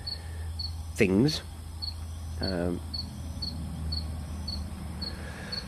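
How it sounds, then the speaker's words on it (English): Crickets and cicadas chirp at night in Argentina, a steady, evenly pulsed insect trill running throughout with faint background hum, briefly overlapped by a couple of short voiced sounds. "not all these crickety, cicada-y"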